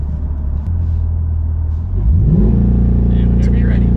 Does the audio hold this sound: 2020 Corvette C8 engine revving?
yes